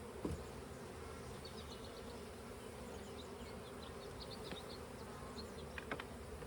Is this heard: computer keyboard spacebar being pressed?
no